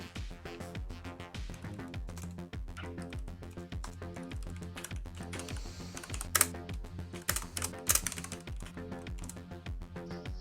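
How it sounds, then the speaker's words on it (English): Rapid typing on a computer keyboard, with a quick run of crisp key clicks over a steady tonal background and a couple of sharper, louder taps near the end; no one talks. "Let me actually finish typing this real quick."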